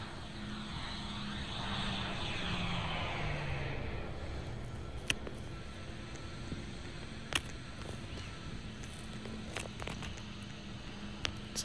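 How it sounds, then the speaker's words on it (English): A plane takes off in the Roblox game Project Flight, its steady engine roar broad and fairly loud for the first few seconds, then easing into a flatter hum, with a few sharp clicks scattered over the second half. "Oh, another plane taking off."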